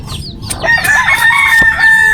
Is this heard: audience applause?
no